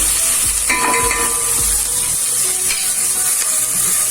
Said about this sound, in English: I'm just frying it so that we can get a better taste of the gravy.